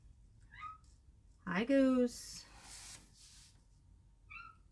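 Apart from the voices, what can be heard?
cat meowing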